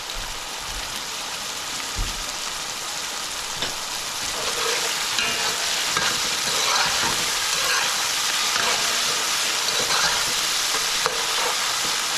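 Snapper stew with habanero pepper cooks in a pot, giving a continuous close sizzle with occasional stirring knocks and scrapes and no voices.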